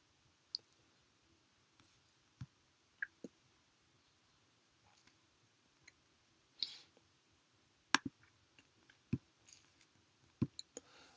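Computer mouse clicks while filling in an online survey on the YouGov website, a dozen or so sharp, close, quiet single clicks spaced irregularly over a near-silent background, with no talk.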